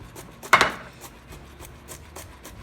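A knife chops garlic and peppers on a board, giving a few faint taps and one louder scraping hit, close and sparse with no talking.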